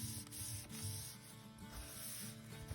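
Spray paint hissing from a can over a paper stencil in short, close bursts, with soft rubbing and rattling between sprays.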